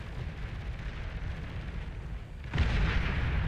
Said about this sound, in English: I think that was a Cortex nuclear launcher